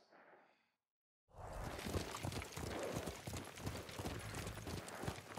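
Horse galloping at speed in the Ghost of Tsushima video game, rapid rhythmic hoofbeats starting after a brief silence, loud and close, with a faint voice at the very start.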